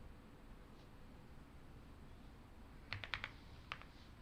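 A computer keyboard is typed on in a short cluster of quiet, crisp clicks, then one more tap, over faint room hiss.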